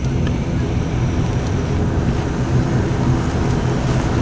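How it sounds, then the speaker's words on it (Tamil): Passenger airliner accelerating down the runway for takeoff, heard from inside the cabin as a steady, loud, broadband engine and rolling roar with no clear pauses. "இப்போ கொஞ்சம் வேகம் எடுக்கிறது ஃப்ளைட்."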